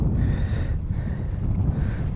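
Cool wind blows across a lake in rural Siberia, a steady rough rumble buffeting the microphone with slight gusts and no voices.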